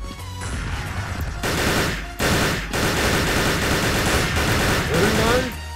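Rapid bursts of video game gunfire crackle almost nonstop with a few explosive booms, while a voice talks excitedly in Turkish over the shooting.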